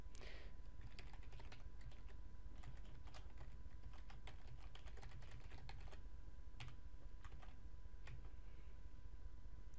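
Code being typed on a computer keyboard: quiet, rapid clicking keystrokes in irregular bursts with short pauses, close and faint over a low background hum, no talk.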